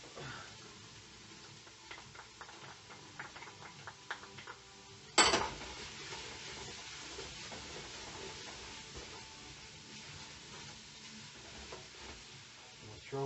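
Salt and garlic being stirred into browned ground meat in a hot frying pan for stuffed green peppers, a steady soft sizzle with scraping and clinks of a utensil against the pan, one sharp louder knock midway.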